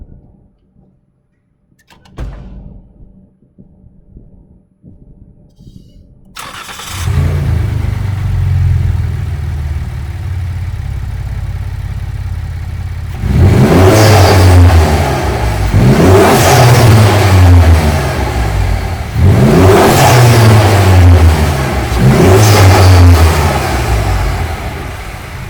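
Ford Fusion Sport with the 2.7 EcoBoost engine and an aftermarket intake and charger pipes revs hard up close: a door opens after a quiet start, then a steady idle gives way to three loud rising revs, with no talking.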